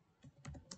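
A few quick, faint keystrokes on a computer keyboard enter a value into an Excel spreadsheet cell, heard close and brief.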